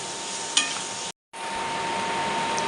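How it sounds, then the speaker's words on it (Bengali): Ground spices are stir-fried in hot oil for a beef tripe curry, giving a loud, close sizzle with a scrape of stirring. The sizzle cuts out briefly, then resumes. "মশলার গুঁড়ো, সবগুলো একসাথে আমি আরও কিছুক্ষণ কষিয়ে নেব"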